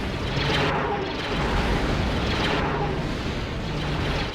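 A big wave of torpedoes detonates in the X-Wing Alliance space-combat game, producing loud, rolling booms that swell and overlap across the whole stretch, with one explosive surge followed by another.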